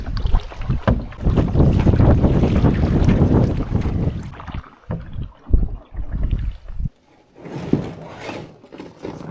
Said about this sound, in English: every single time I'm paddling that lake, the wind is against me